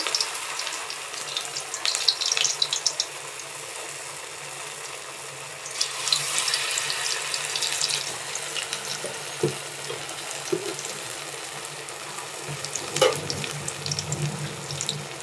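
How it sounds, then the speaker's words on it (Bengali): Ash gourd pieces dipped in rice batter frying in hot oil, a steady soft crackle and hiss with occasional louder bursts and clinks, close by, no talking. "দিয়ে আমি চাল বেটারটা করে রেখেছি, তেলটাও আমি গরমে বসিয়ে দিয়েছি। ওর মধ্যে দিয়ে এটা ভাজবো।"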